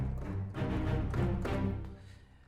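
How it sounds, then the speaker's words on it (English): Short, detached string notes played by a full ensemble, bouncing in a quick rhythmic pattern with a warm low end, fading out at the close. "the strings full ensemble spiccato, which by itself sounds like this"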